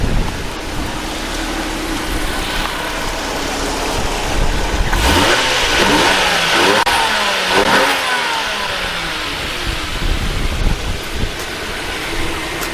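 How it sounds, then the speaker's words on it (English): A 1991 Toyota Soarer 2.5GT-T with its twin-turbo engine is revved a couple of times under an open bonnet, the engine note swelling and falling back over a steady running drone, loud and close. "let's give it a couple of revs"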